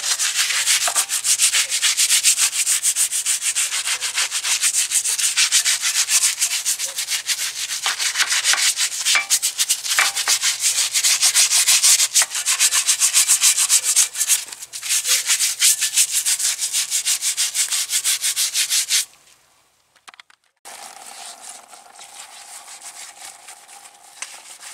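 A stiff brush scrubs grit and grime off a brake caliper, a loud, steady, rasping rub for about nineteen seconds, then a brief pause and softer scrubbing.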